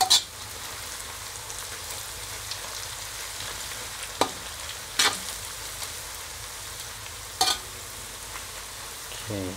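Lemongrass frying gently in oil on low heat, a soft continuous crackle and sizzle with a few sharper pops and clinks scattered throughout, fairly quiet and close.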